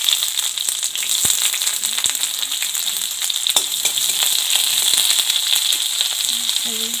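Panch phoron, two bay leaves and three dried chilies sizzle in hot oil, a steady close frying hiss with scattered crackles and a few light clinks of stirring.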